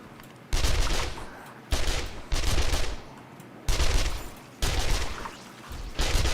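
Loud shotgun-like blasts fired at feral zombies in 7 Days to Die, five or six heavy shots spaced about a second apart, each with a short rumbling decay.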